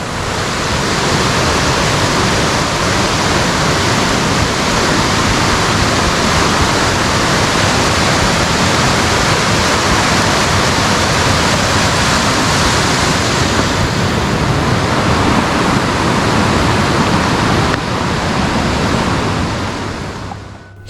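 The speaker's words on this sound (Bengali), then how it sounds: "পাশে ঝর্ণা বয়ে যাচ্ছে" A mountain stream tumbles beside a steep path on the way to Baisaran Valley near Pahalgam, giving a loud, steady, unbroken rush of water throughout with no voices.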